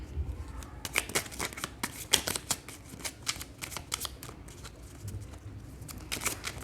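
Tarot cards being shuffled to draw clarifier cards, a steady run of quick papery riffles and soft flicks, close and fairly quiet with no talking.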